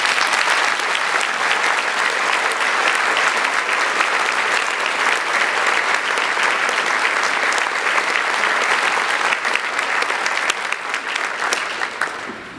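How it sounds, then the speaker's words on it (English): An audience at a church synod presentation claps steadily and loudly for several seconds, the applause thinning slightly at the end. "Now you can applaud."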